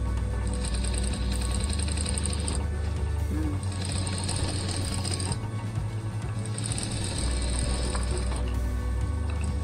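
A sewing machine runs stitches through horsehair braid in steady mechanical bursts, its rhythmic clatter and hum rising and pausing in three separate runs, close and continuous.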